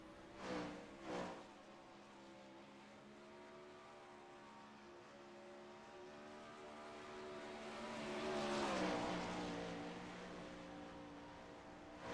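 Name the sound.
dirt race cars on track during practice session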